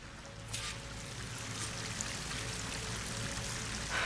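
A waterfall in the video game Horizon Forbidden West pours as a steady, moderately loud broadband rush of water, continuous throughout with a few brief splashy accents and no talking.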